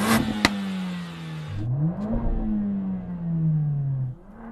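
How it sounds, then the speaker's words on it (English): An engine revs up and down in rising and falling sweeps, with a sharp crack near the start and a sudden drop as the throttle lifts. "that thing does sound pretty good. This is good, it like pops and bangs and stuff"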